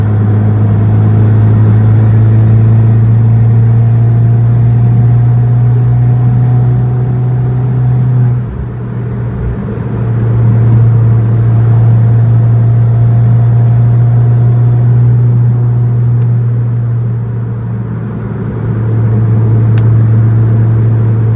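A car fitted with a DIY intake and a Go Fast Bits DV+ diverter valve drives along a road, its engine a loud steady droning hum with slight dips and swells, heard from inside the cabin.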